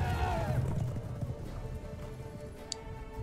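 A horse in The Witcher 3 gives a short whinny at the start, then its hooves clop and shuffle in an uneven rhythm at moderate volume, with game ambience underneath.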